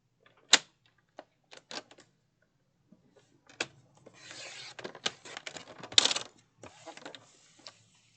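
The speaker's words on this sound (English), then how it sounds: "Then I'm going to go ahead and trim this piece to 8." Paper being trimmed for a notebook makeover, a quiet run of sharp clicks and taps followed by soft rasping cuts, close and intermittent with short pauses between them.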